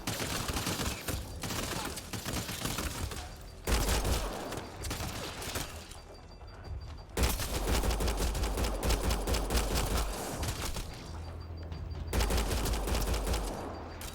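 Rapid automatic gunfire in the video game Mass Effect Andromeda, dense loud bursts of shots in several long volleys separated by brief lulls, with low booming thumps mixed in.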